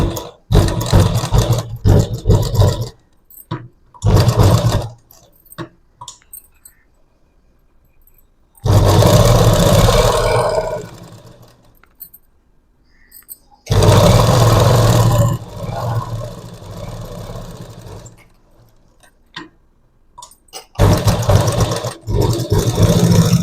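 A sewing machine stitches along the edge of a half collar in loud, close bursts of motor whirr, several seconds each, separated by quiet pauses and short spurts of running.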